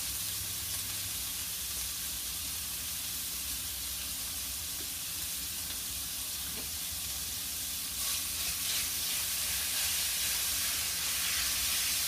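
Pork mince sizzles in melted coconut oil in a pan, a steady dense hiss and crackle that grows a little louder and busier toward the end, with no talking over it.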